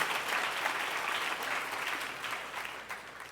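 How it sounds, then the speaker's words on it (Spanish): A church congregation claps together in a steady, moderately loud round of applause that holds evenly for a few seconds and starts to fade toward the end. "Por eso démosle un aplauso a nuestro Dios"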